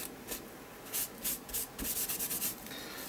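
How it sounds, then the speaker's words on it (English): Paint being rubbed around by hand on an art journal page, a soft papery scrubbing in several short close strokes with brief pauses, no voices. "Rub it around."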